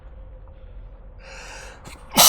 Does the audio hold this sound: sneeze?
yes